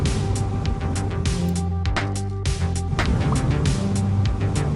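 Game sound effects of small laser beams popping like balloons fire in rapid, repeated bursts over a driving music track, all fairly loud and busy.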